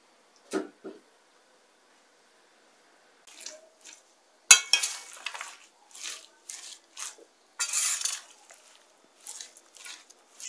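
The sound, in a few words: stirring strained yogurt into spinach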